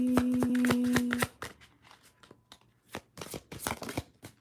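Tarot cards are shuffled by hand, close and fairly quiet. A riffled run of crisp flicks is followed by scattered slaps and taps as the deck is handled, with a faint tone at the start.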